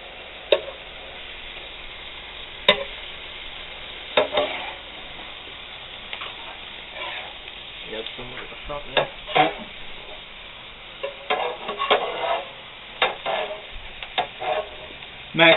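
Thin Steak-umm sliced beef sizzles in a greasy skillet at fairly low heat, a steady close frying hiss broken by repeated sharp scraping and stirring clicks from a utensil.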